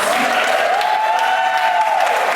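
Audience applause at a live show in an old church forms a loud, continuous wash of clapping, with a sustained tone hovering above it throughout.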